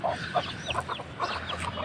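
Hens clucking nearby on a poultry-keeping homestead, a string of short, soft clucks and chirpy calls in an irregular rhythm, with no talking.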